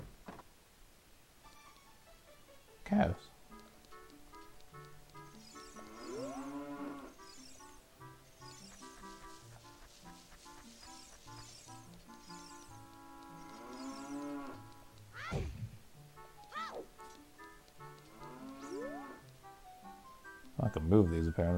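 Several cows moo in drawn-out, rising calls in a Zelda game in Hyrule Castle Town, over a layered soundtrack, with occasional sharp impacts and thuds between them.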